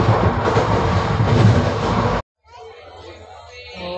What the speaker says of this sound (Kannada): ವಿಶ್ವಮಾನವ ಎಕ್ಸ್ಪ್ರೆಸ್ ಈಗ ಬಂದಿದೆ ಅರಸೀಕೆರೆ ಜಂಕ್ಷನ್ಗೆ.